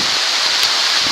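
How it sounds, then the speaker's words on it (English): Heavy outdoor downpour, a dense, loud, constant hiss of rain with no pauses. "That's a lot of rain!"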